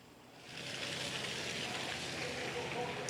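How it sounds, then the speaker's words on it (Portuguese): Steady rain falls on a town during flooding in Miracema, Rio de Janeiro, a dense close hiss that swells after a brief quieter start and continues evenly. "Tá chovendo aqui em Miracema de novo."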